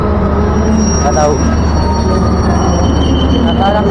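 A local train pulls into Surabaya station after rain, a steady loud rumble of rolling stock with faint wheel squeal and hiss, continuous throughout as an announcement or voice murmurs faintly in the background.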